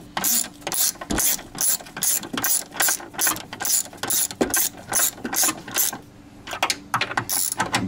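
Ratchet with a 13 mm socket tightening a suspension bolt on a BMW E36 320i during an H&R Cup coilover install, rapid rhythmic clicking strokes, close and loud, pausing briefly before resuming.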